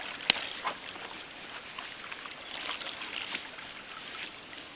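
Canoe paddle sweeping through calm water in Canadian-style paddling, a soft swishing and gentle sloshing with a sharp knock near the start, quiet and close.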